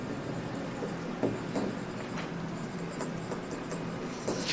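Chalk or marker writing on a board during a physics lecture, quiet scratchy strokes and taps in irregular short bursts over low room hum, close and without talking.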